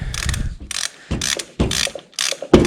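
A ratchet tightens a 16 mm bolt into the aluminum cylinder head of a Chinese 110cc ATV engine, giving several short bursts of loud, close clicking separated by brief pauses.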